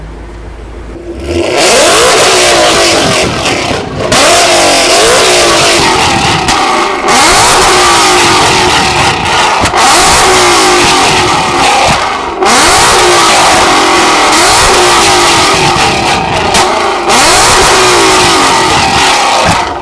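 A car engine revs hard through a loud aftermarket exhaust outdoors in snow, repeated long throttle blips with sharp crackling pops between them, close and dominating, no talk.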